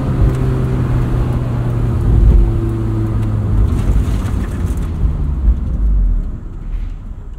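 A 2003 Honda S2000 engine idles with a smooth, low, steady hum, quiet and even, a faint whir above it easing off toward the end.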